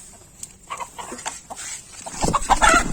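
A chicken clucks close by in short, repeated bursts, growing louder toward the end.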